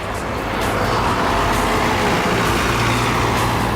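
Steady road traffic on wide city streets in Malta, with cars and trucks rolling past in a continuous moderate-to-loud wash of engine and tire noise, a low rumble building slightly after the first half second.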